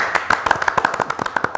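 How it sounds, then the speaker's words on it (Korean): Audience applause greets a guest arriving on a Korean talk show about crypto assets, a burst of close, sharp hand claps in an irregular patter lasting under two seconds. "박수."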